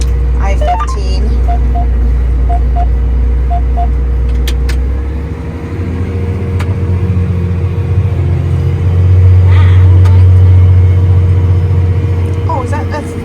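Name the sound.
traffic on the I-15 freeway next to the field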